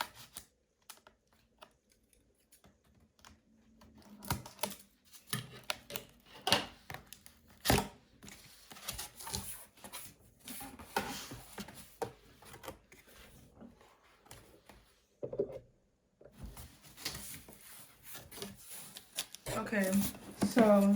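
A large cardboard box holding a Cricut Explore Air 2 cutting machine is opened, with close tape tearing, cardboard scraping and rustling flaps in irregular bursts while a person talks throughout.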